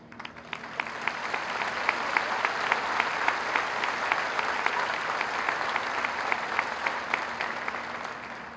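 Sustained applause from an audience at a graduation ceremony as a salutatorian's family stands to be recognized, steady dense clapping filling the hall throughout with no voices.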